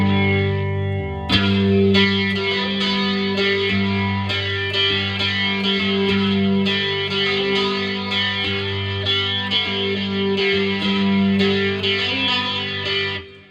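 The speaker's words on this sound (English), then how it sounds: "I'm going fuzz into overdrive, then flanger, then reverb." Electric guitar chords played through fuzz into overdrive, then flanger, then reverb ring out heavily fuzzed and overdriven, with a swirling flanged sweep and a wash of reverb, sustained and loud throughout.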